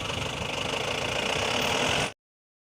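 A 125 cc motorbike engine idles steadily and loudly close by, with a continuous rattly knocking pulse for about two seconds before cutting off abruptly.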